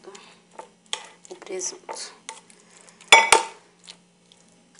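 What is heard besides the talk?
stirring ham pâté mixture in a bowl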